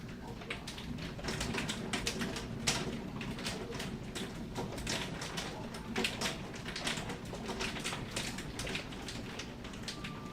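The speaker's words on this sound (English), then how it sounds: "it's hail hitting the glass." Hail pelting window glass in a rapid, irregular patter of sharp clicks much like keyboard typing, steady and fairly faint over a constant low background hum, with no talking.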